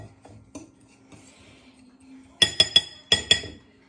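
A metal utensil knocks and scrapes against a bowl while Dijon chicken mixture is stirred, giving five sharp clinks in a quick cluster near the end after quieter shuffling.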